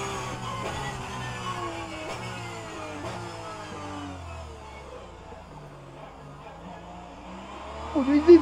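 A Clio Cup race car engine in the rFactor 2 racing game revs and shifts through gears in a repeated rising pattern, with a short burst of louder noise near the end.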